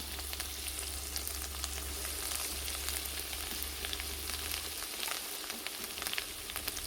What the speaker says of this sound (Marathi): आता पण तेलामध्ये घेणार आहोत कांदा खोबरं आणि आलं वाटून घेतलेलं आहे ते टाकून घेणार आहोत